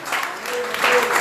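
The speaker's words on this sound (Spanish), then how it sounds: "Denle un aplauso al Señor, si es tan amable." A church congregation applauding during a Spanish-language service, a short burst of steady, dense clapping that fills the space, with voices mixed in underneath.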